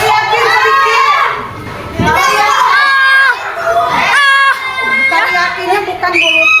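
Children shouting and calling out together in a school coaching session, a loud continuous burst of young voices with a brief dip before rising again.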